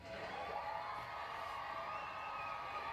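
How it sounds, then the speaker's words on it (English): A stadium-style crowd cheers and applauds for LeBron, a dense, even roar with whoops that runs unbroken at moderate level and has no talk over it. "round of applause one time for LeBron."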